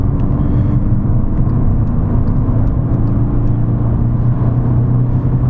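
A VW Golf 6 2.0 TDI 110 with a gearbox that balks at third gear drones steadily while driving, a loud continuous low engine and road rumble from inside the car.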